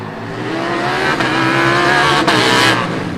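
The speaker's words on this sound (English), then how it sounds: "So this car is so loud, but so very aggressive on the track and looking really fast as well." Formula Student combustion race car at full throttle on an autocross track, a loud sustained engine roar with shifting pitch and a brief tire squeal, close and continuous with no talk.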